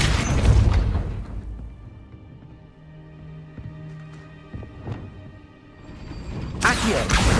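In Hogwarts Legacy, the Depulso spell lands with a deep, rumbling burst of force. A quieter stretch with low mechanical creaks follows, then another loud surge at the end.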